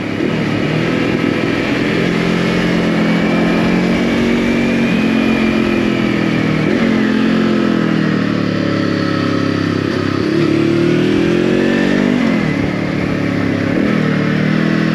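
A 2023 Voge 525 ACX motorcycle pulling away and accelerating hard, its engine note climbing steadily and rising and falling through gear changes over a sustained, loud run with no talking.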